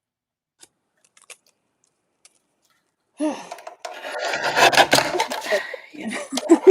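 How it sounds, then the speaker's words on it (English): Scissors snip a thin sliver from a paper craft card close by, a run of quick crisp rasping cuts after a few seconds of near silence, with a brief spoken word. "I need to cut this tiny sliver out of my card."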